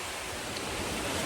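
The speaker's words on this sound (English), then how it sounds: "it's windy now, so the wind's picking up" Strong gusty wind from Hurricane Milton roaring steadily and loudly as broadband rushing noise, buffeting close to the microphone, with no voices.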